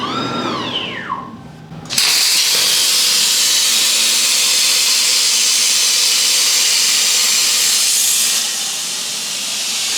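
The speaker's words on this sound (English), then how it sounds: "we're going to burn some 1/4-inch aluminum there" A cutter burns through 1/4-inch aluminum plate for a horse trailer gate bracket, making a loud, steady roaring hiss that starts abruptly after a brief voice and runs several seconds before easing down.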